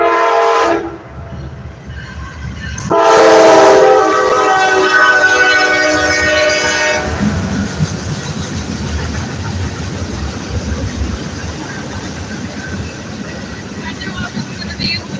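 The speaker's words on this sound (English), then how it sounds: "Train coming." A passing train sounds a loud, sustained horn for several seconds, then its rumble and rattling wheels carry on steadily, with people talking nearby.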